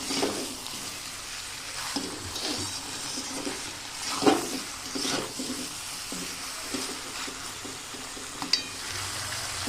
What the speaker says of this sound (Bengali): দেখুন তাও নেড়ে নিয়েছি খুব ভালো করে